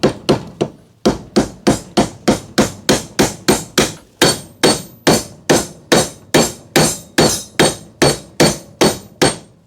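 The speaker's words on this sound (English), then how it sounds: "Give the bearing a few light taps." A light hammer seats a front hub bearing on a Honda ATV with a long, even run of about two dozen sharp metallic taps, close and loud, with brief pauses between strikes.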